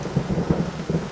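Rumbling thunder from a lightning strike rolls in low, uneven pulses, loud and close, with a rain-like hiss running underneath throughout.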